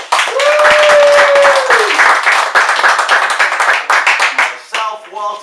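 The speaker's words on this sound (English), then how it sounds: "let's have a round of applause for Linda Alper and Sam Roca" Audience clapping and applause at a Long Beach broadcast event, a dense burst of hands with a brief whistle near the start, continuing steadily and thinning toward the end.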